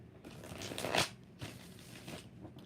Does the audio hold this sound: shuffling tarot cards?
yes